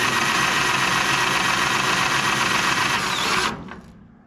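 A cordless drill running at high speed through a homemade adapter drives a two-speed trailer jack: a steady, loud whine and mechanical grind close by, alone, that cuts off near the end and spins down.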